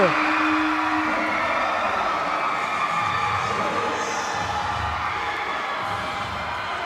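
Basketball arena crowd at a Philippine MPBL game, Muntinlupa versus Bataan, roaring and cheering in a dense sustained wash after Bataan takes the lead, with a commentator's voice talking over it.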